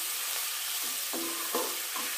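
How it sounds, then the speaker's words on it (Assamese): Spice masala with garlic and onion for a goose curry fries toward golden brown, giving a continuous hiss broken by a few soft stirring scrapes, close and unaccompanied by talk. "এতিয়া এই গোটেই মছলাখিনি আমি গোল্ডেন ব্ৰাউন হোৱাকৈ ভাজিম।"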